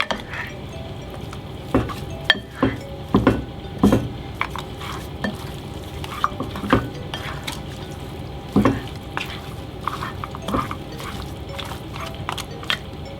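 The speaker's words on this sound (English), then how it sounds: "And into our lamb we're going to put all our herbs. We're just going to give that a little bit of a mix in." A spoon stirs herbs into lamb in a stew pot, giving irregular scrapes and clinks against the pot over a soft background sizzle, with sharper knocks scattered throughout.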